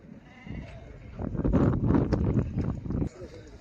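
Male lambs bleating at the Mashtaga sheep, goat and cattle market in Azerbaijan: a couple of close, wavering bleats over a low murmur of market noise.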